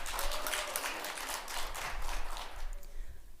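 Applause from a city council assembly congratulating an award recipient at a plenary session, a dense steady patter of many hands clapping throughout at a moderate, even level.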